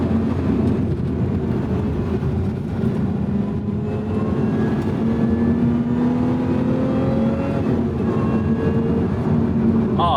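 A 2024 Lotus Emira Sport Chassis V6 with manual gearbox being driven hard on a canyon road, its engine droning and rising in pitch through acceleration, loud and continuous from inside the car.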